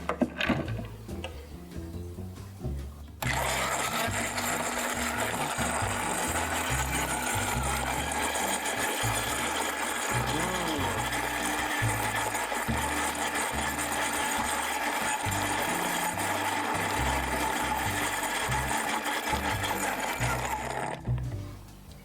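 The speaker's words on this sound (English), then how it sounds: "use the spindle blender to flash blend it, introduce a lot of aeration, fluff up those egg whites" Spindle blender flash blending an egg white cocktail, a loud steady whirring drone that starts after a few seconds of handling, runs about eighteen seconds and then cuts off.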